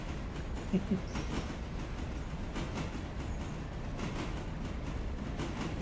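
Train rumbling along in the railroad simulation game Railroader, a low, steady rolling drone with faint rhythmic clatter, heard alone at a moderate distance.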